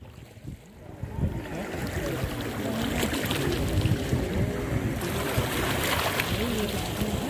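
Motor boat on Kulekhani lake at Markhu, a steady engine drone with water churning and splashing close by, building after the first second and staying loud throughout.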